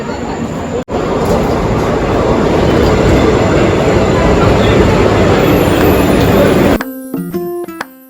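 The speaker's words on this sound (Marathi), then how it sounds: "हमारी ट्रेन आ चुकी है" A train rumbles loudly into a station in a continuous heavy roar, then a chime of tones sounds as the noise eases.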